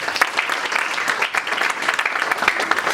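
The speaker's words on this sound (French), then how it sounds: "Acclamons la parole de Dieu." A church congregation claps together at a French-language service, a dense, steady applause of many hands at close range that holds evenly throughout with no speech over it.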